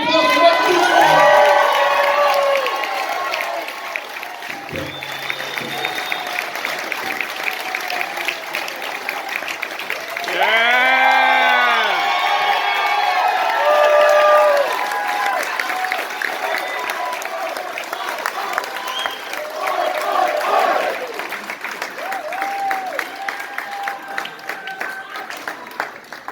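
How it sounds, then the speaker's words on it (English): A banquet crowd of Seattle Seahawks fans applauds and cheers a Rookie of the Year award winner, sustained loud clapping with whoops and shouts across the room, swelling again midway, with voices mixed in. "round of applause for Mark"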